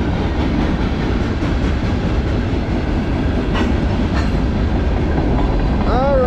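A Norfolk Southern manifest freight train, led by Dash 9 locomotive 9886, rolls past on a cold morning with loud, continuous wheel rumble and rail clatter, and a brief wheel squeal near the end.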